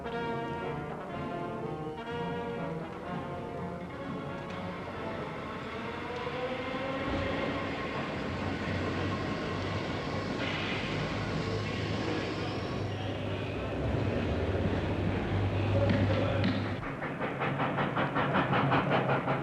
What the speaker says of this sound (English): the railways of Southland keep the produce on the move